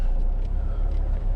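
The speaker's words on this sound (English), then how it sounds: "even idling now, it just feels so smooth" A car's engine idling smoothly while briefly stopped on an empty country road, a low steady rumble heard from inside the cabin with no talk.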